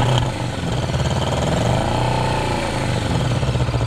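A Kawasaki Vulcan S motorcycle with a louder-than-stock exhaust runs loud and close, its exhaust blipping and revving with a rough, throbbing rumble throughout.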